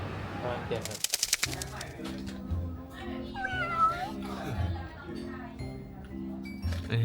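A cat meows repeatedly in short, close calls while people chat nearby, with a brief burst of clinking early on.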